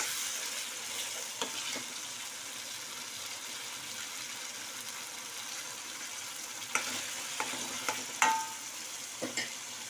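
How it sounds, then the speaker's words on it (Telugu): A palak (spinach) curry being stirred in a pan as it catches on the bottom, with a steady low sizzle and a few scraping spoon strokes near the end, no talking. "అడగంటినప్పుడు ఇలా కలుపుకోవాలి"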